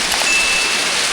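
Rain falls outdoors in a steady, dense hiss with no pauses, close and fairly loud.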